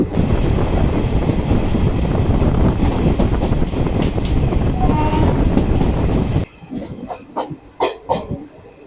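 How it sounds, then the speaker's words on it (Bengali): An express train rumbles into a station loudly with rhythmic clattering wheels, then the roar cuts off as it stops at the platform, leaving a quieter stretch with a few sharp clanks and thuds. "ট্রেন এসে দাঁড়িয়েছে আমাদের দুই নম্বর প্ল্যাটফর্মে"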